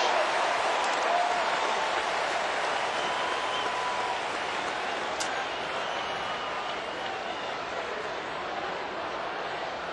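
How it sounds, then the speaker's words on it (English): Baseball stadium crowd of Red Sox and Mariners fans roaring in a steady, dense wash of cheering and noise that fills the whole span, with no clear voices standing apart. "Red Sox Nation amping up the crowd here because Mariner fans refuse to get shouted down"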